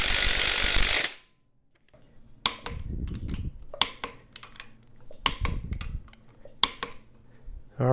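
Ratchet torquing the flywheel bolts onto a 2.4 SRT4 crank in a Dakota, after a loud burst of noise, heard as short bursts of close, dry clicking separated by pauses.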